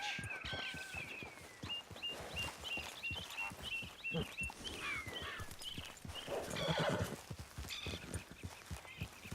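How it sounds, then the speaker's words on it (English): In the Red Dead Redemption 2 video game, a horse clip-clops along at a steady walk and gives a high whinny partway through, with the hoofbeats continuing close and evenly beneath it. "Grab your horse and let's go"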